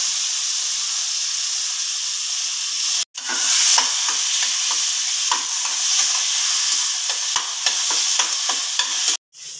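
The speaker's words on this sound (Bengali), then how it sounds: "মিনিট 5 ভালো করে কচুর শাকটাকে তেলের সাথে ভালো করে ভেজে নিলাম" Boiled taro greens fry in hot oil with bay leaf and green chillies, a loud continuous sizzle and steady hiss broken by repeated scraping stirs, with two brief gaps in the sound.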